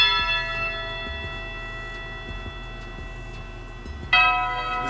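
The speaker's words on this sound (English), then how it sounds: "I added these tubular bells to it." Tubular bells ring out in a trap beat intro, sustained metallic tones layered in a repeating pattern over a low rhythmic pulse, with a brighter bell strike swelling near the end.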